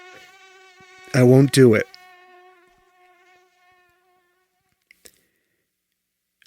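A mosquito buzzes close by with a thin, steady whine that fades away over a few seconds, while a person speaks briefly over it near the start.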